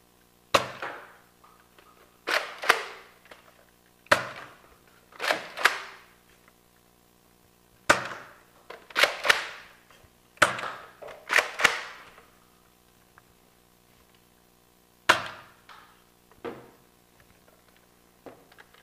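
A Nerf N-Strike Elite Retaliator toy blaster fires foam darts, a series of sharp snapping shots, often in quick pairs with the pump action, spread across the stretch with short quiet gaps.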